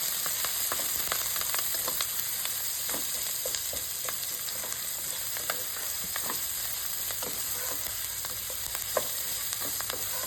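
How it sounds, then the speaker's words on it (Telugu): Sliced onions, green chillies and curry leaves fry in hot oil for an egg fry, giving a steady close sizzle under frequent light scrapes of stirring. "ఆనియన్స్ని మనం పచ్చివాసన పోయి లైట్గా కలర్ చేంజ్ అయ్యేంత వరకు వేయించుకుంటే సరిపోతుంది"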